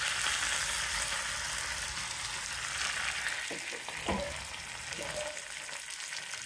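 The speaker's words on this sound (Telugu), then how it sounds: "అలాగే 2 ఎండుమిరపకాయలు, ఆవాలు, జీలకర్ర, వెల్లుల్లిపాయలు కచ్చా పచ్చాగా నూనె పక్కకు వేస్తాను." Two dry red chilies, mustard seeds, cumin and garlic temper in hot oil, giving a continuous bright sizzle with a few sharp pops and clinks midway, heard up close without talk.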